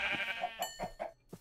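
Several sheep bleats from Minecraft, short wavering calls repeating at a quick, uneven rhythm, close and clear with no talking over them.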